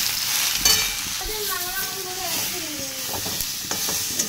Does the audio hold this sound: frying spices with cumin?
yes